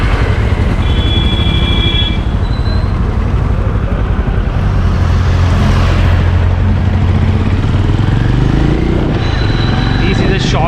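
A 2021 Benelli Imperiale 400 with its 374cc single-cylinder engine idles and putters steadily at low speed while being turned in a tight circle, a loud continuous chug with someone speaking over it.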